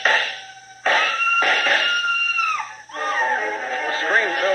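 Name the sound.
high frenzied scream in radio drama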